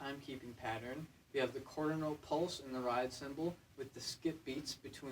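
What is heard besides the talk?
None of the usual background noises is heard.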